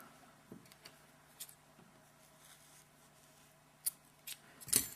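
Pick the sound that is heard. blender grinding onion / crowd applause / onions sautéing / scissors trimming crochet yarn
scissors trimming crochet yarn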